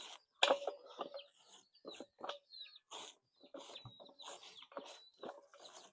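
Ducks feeding on chopped banana trunk give out short, scattered quacks and clucking calls, close by and at moderate volume, with small pecking and rustling sounds between them.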